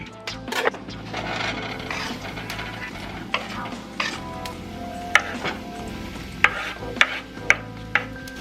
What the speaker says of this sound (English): My coconut oil is now melted and hot, so I'm going to add the mushrooms and onions.